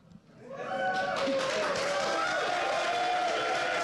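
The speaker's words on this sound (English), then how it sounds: "The applause just doesn't stop here for the Copenhagen Wolves." Crowd applauding and cheering at a League of Legends esports match for the Copenhagen Wolves, rising within half a second into a dense, sustained wall of noise that holds loud to the end.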